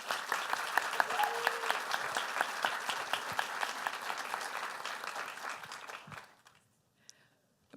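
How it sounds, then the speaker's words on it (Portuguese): Audience applause at a youth changemakers gathering, a dense burst of clapping from the crowd that holds steady, then fades out toward the end into near silence with a brief sound at the close. "Com uma salva de palmas,"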